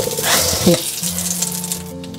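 Lard sizzling and crackling in a hot wok while fried rice is being made, a steady close frying hiss with a stirring clatter near the middle and a faint voice in the background.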